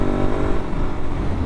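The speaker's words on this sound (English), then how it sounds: "It has this really nice intake noise." Aprilia Tuareg 660 adventure motorcycle engine heard while riding, a loud steady intake drone with a continuous rumble throughout.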